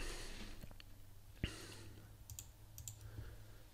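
Sparse clicks of typing on a computer keyboard, with a few scattered keystrokes and one sharper tap, heard quietly against faint room noise and breathing.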